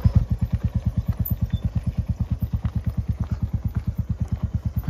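A Royal Enfield Bullet motorcycle thumps along a rough mountain road near McLeod Ganj, its single-cylinder beat loud, close and steady throughout.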